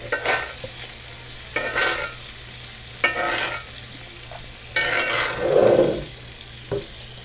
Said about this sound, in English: let's toss some butter in there. We're just gonna baste our burgers